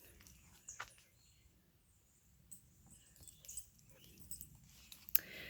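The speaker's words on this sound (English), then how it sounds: "So dog's pulling me." A dog at a lakeside campsite at Lake Moomaw makes faint, scattered whimpers and pattering sounds, with soft rustles and a quiet outdoor background between them.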